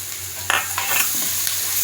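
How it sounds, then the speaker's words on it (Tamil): Capsicum frying with onions in a pan for chilli parotta, a continuous close sizzle with a few brief scraping strokes of a spatula. "குடமிளகா ஒரு நிமிஷத்தில் ஃப்ரை ஆயிரும்"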